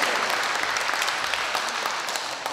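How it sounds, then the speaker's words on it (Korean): Applause from the audience at a book launch for a documentary about Syngman Rhee, a dense, steady wash of many hands clapping at close range, holding at an even level throughout. "큰 격려, 감사, 치아의 박수를 주시기 바랍니다"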